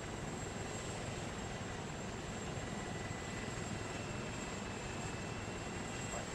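Helicopter in the military game ARMA 3, a steady, dense rotor and engine roar that fills the whole stretch without pause, heard from close by.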